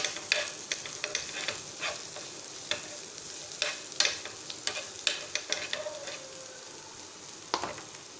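Fried prawns being stirred in a pan for prawn unda puttu, with a steady background sizzle broken by repeated sharp scraping strokes of a spoon across the pan, close and moderately loud, no voices.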